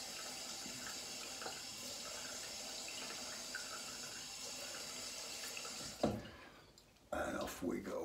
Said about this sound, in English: Let me just wet the face a bit.